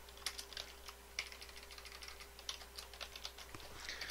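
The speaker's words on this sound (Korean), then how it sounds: "제가 키보드를 바꿔가지고 지금 제가 적응을 잘 못하고 있어요" Steady typing on a new, quieter computer keyboard, soft close keystrokes in irregular bursts with no one talking.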